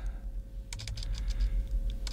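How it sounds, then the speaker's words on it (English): A few keys clack on a computer keyboard in short quick bursts, close and fairly quiet over a low background hum, with no talking. "I'm typing in"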